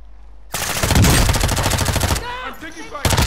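Rapid automatic gunfire from Call of Duty Modern Warfare II, a dense sustained burst of shots starting abruptly, loud and close, then breaking off into tonal game effects before another burst at the end.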